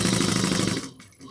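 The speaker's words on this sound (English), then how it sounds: "we're going to sew it down with a 1/8 of an inch seam allowance" A sewing machine stitching a tote bag seam, a fast, close rhythmic clatter of the needle that stops abruptly partway through.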